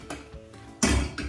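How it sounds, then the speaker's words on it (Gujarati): A spoon scrapes and clinks in a pan while amchur powder is stirred into a masala, with a few light taps and then a louder, brief stretch of scraping. "ફટાફટ થોડુંક આપણે હલાવી દઈએ"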